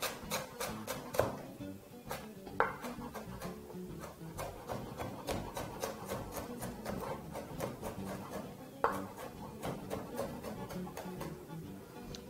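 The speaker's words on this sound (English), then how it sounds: "turn that around and proceed to cut that into some very fine" A knife finely chopping ingredients on a board makes a steady series of crisp taps close by, with a few sharper, louder strikes along the way.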